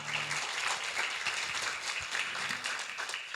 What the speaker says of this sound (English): let's give them a huge round of applause for helping to pull this off